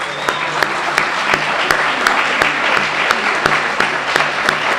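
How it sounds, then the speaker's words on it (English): An audience applauds award winners at a county eco awards ceremony, loud, steady, sustained clapping from a crowd filling the room. "Can we have a round of applause for all the winners today?"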